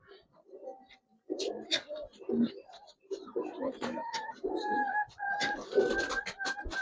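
Pigeons kept for sale coo in soft repeated throaty bursts nearby, overlapping in an uneven rhythm with brief gaps between calls.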